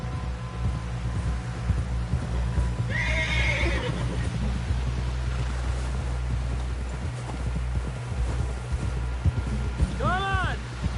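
A horse in the Red Dead Redemption 2 game whinnies twice, once near the start and again near the end, over a steady bed of hoofbeats and outdoor ambience, with game voices talking at times.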